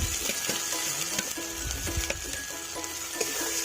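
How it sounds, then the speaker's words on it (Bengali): Chopped onion with ginger-garlic and cumin-coriander paste fries in a pan with a steady close sizzle, broken by scraping stirs and light clinks, with no talking. "এটাকে মিশিয়ে অল্প পরিমাণে ভেজে নেব"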